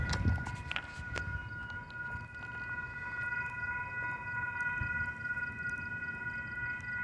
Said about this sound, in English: I have a southbound BNSF train coming.